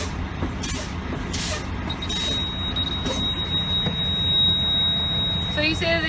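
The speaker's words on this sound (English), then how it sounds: "you start pumping the brake pedal until the low air warning device comes on and stays on" Truck air brake pedal pumped repeatedly during a pre-trip inspection, hissing air bursts in a noisy idling cab until a steady high low-air warning buzzer comes on and holds.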